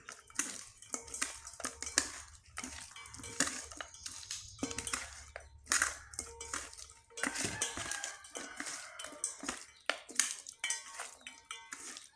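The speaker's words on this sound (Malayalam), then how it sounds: "മീനുകൾ ഇതൊക്കെ ഇങ്ങനെ വാരിയിട്ട് നമുക്ക് മസാല കുഴയ്ക്കുക" Fish pieces being mixed with masala by hand: irregular wet squelching, slapping and scraping against a vessel, coming in uneven bursts with brief gaps, close and moderately quiet.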